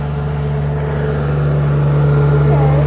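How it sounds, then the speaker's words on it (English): A truck's engine rumbles steadily nearby on a road beside construction, a low sustained drone that grows slightly louder as it passes. "She's scared of this truck."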